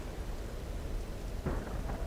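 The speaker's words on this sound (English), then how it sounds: "we had lots of wind and rain. Just kind of sounded like this in this game." Wind and heavy rain from the Tomb Raider (2013) video game roar as a dense, continuous wash, with low rumbling surges near the end suggesting thunder, no voices present.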